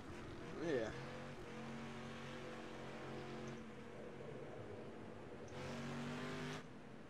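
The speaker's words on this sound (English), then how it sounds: "There's all the cars going by." Dirt street stock race cars in iRacing rumble past with steady engine drones, one revving pass and a louder car sweeping by near the end, moderately loud beneath a speaking voice.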